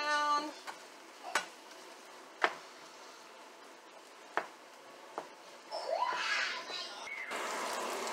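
A utensil scrapes and clinks around a frying pan of garlic and hamburger meat in a few sharp strokes, with soft sizzling and faint rustling building toward the end; no talking.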